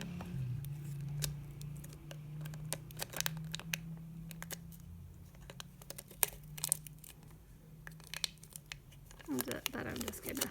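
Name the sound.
trimming paper for DIY phone stand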